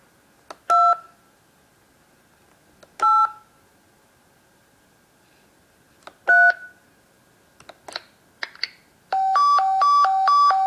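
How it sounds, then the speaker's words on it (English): Telephone keypad tones sound clearly against silence: three separate beeps spaced a few seconds apart, then a pair of quick, fainter tones, and finally a rapid run of dialing tones in a row. "Dial this number."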